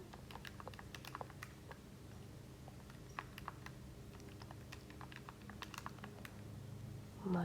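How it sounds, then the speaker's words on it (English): Quick taps on calculator buttons while numbers are entered, a faint, irregular run of light clicks close by with no talking. "Go ahead and type this into your calculator"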